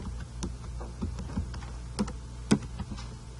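Typing on a computer keyboard, with a string of faint, scattered keystrokes and a couple of sharper taps over a low steady hum.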